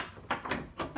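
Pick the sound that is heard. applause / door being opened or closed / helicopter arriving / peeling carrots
door being opened or closed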